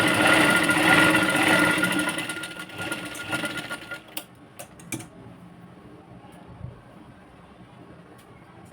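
A sewing machine runs in a loud steady whir while stitching the lining of a double katori blouse, then stops and gives way to a few scattered clicks and handling taps.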